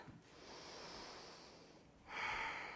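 Deep breathing during a yoga session, a slow soft breathy inhale building over a couple of seconds, then a fuller, louder exhale near the end, close and quiet with no talking.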